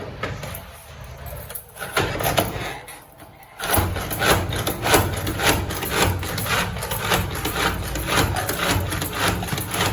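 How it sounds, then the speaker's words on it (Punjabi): A knife chops food for a potato paratha filling in a home kitchen with a fast run of close, sharp knocks on a board. The knocks carry on steadily after a brief quieter opening. "ਆਪਾਂ ਇਹਨੂੰ ਚੌਪ ਕਰ ਲੈਣਾ"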